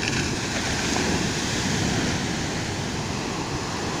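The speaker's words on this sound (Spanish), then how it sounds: "que usar de fondo el mar" Sea waves wash along the shore, a steady broad roar of surf with some wind buffeting the microphone, continuous throughout and unbroken by speech.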